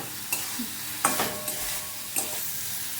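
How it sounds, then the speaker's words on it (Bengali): Small fish being stirred into fried mustard in a pan, a soft sizzle broken by three distinct scraping strokes of a spoon against the pan, close and moderately loud. "এবার আমি মাছগুলো দিয়ে দেবো সর্ষের মধ্যে, ভালোভাবে মিশিয়ে নেব।"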